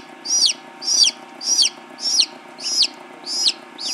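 Newborn chicks cheep in a steady series of about seven high, sharp peeps, evenly spaced and fairly close, with a faint steady hum underneath and no talking.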